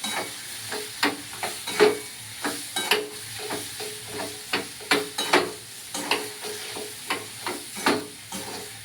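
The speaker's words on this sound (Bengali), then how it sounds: "খালি এবার নেড়ে শাকটা একটু ভাজাভাজি হবে" Drumstick leaves being stirred and fried in a pan, with a steady sizzle and hiss broken by rhythmic scraping strokes of a spatula roughly every half second, close and fairly loud, with no voices.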